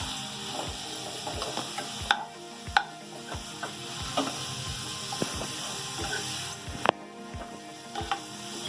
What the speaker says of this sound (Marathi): त्याच्यात थोडा गाजर परतून घ्यायचा. दोन मिनिटं परतून घ्यायचं जरा.